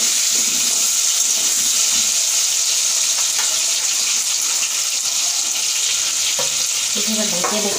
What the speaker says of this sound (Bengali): আমি মাংসটা ধুয়ে নেবো, ভালো করে একবার দুইবার ধুয়ে নিয়েছি, আবার দুবার ধুয়ে নেবো